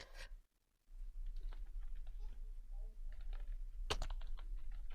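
A table name is typed on a computer keyboard in Excel, with quick bursts of close, crisp key clicks after a brief silence and a heavier cluster of strikes near the end, over faint low hum.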